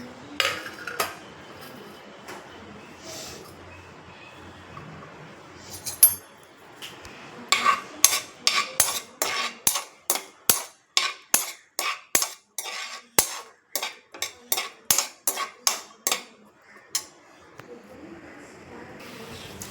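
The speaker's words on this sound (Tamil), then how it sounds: "இந்த இஞ்சியும் பூண்டையும் இதில் போட்டு வதக்கிடலாம்" Ginger and garlic sauté in a pan: a long run of sharp metallic clinks and scrapes of a utensil against the pan, sparse at first and then quick and rhythmic, close and fairly loud.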